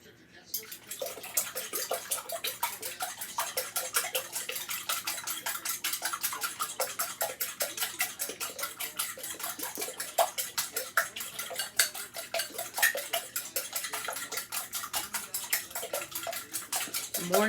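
Eggs and milk being beaten in a bowl for a bacon, egg and cheese casserole: a fast, steady run of small utensil clicks against the bowl, close and even, lasting throughout.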